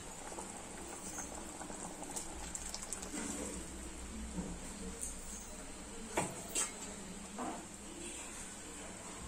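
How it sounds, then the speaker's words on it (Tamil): Leftover mixer water pouring into simmering Kerala-style arachuvitta sambar, a steady bubbling boil with soft splashes throughout, a couple of brief louder splashes near the end. "கொஞ்சம் மிக்ஸி கலன தண்ணிய இப்ப அதல ஊத்திரலாம் வேஸ்ட் ஆகாம"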